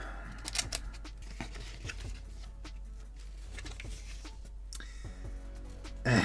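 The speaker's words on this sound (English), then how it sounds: "And we have scissors here, so let's use them." Scissors cutting through paper or packaging while opening a scrawlrbox art supply box, a series of close, crisp snips and rustles in uneven rhythm.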